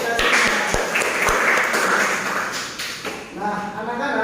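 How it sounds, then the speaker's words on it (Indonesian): A classroom of schoolchildren claps together in a brief burst of applause, a busy patter of many hands preceded by a few sharp taps, with a teacher's voice and chatter mixed in. "Tepuk tangan untuk kita semua."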